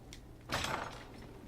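A door in Dragon Age: Inquisition opens with a single soft whooshing, scraping sweep lasting under half a second over a faint low hum.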